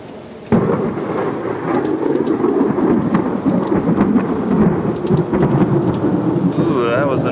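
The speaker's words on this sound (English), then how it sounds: "It's just a sheer monsoon-like sheet of rain." A heavy, monsoon-like summer downpour in Sioux Falls roars loud and steady after a sudden onset, with thunder rumbling through the rain and no speech.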